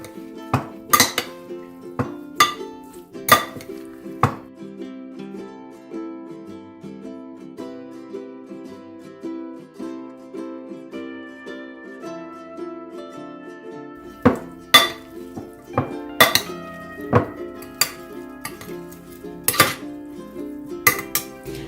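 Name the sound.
mixing spicy soya chunks choila in a bowl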